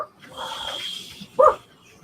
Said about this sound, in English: They know dogs bark.